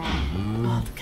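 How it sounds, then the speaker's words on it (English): Cows mooing in the video game Minecraft, a loud, close, drawn-out bovine call with a wavering pitch that fills the moment and fades near the end. "Oh, the cows are so loud."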